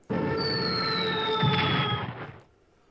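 A game explosion in the WW2 strategy game Strategic Command, a loud sustained burst of roughly two seconds with a falling whistle-like tone layered over a dense rumble, then fading out.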